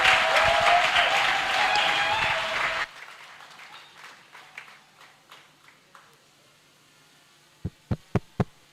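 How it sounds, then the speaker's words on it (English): A loud burst of applause from a crowd cuts off abruptly, followed by a few scattered claps and some sharp taps near the end. "Another round of applause for our father."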